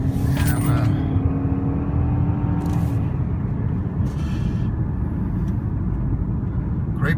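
A 2012 Audi A4 Premium Plus S Line with 30k miles accelerating hard on the road, its steady loud engine and road roar heard from inside the cabin.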